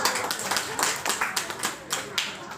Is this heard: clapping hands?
yes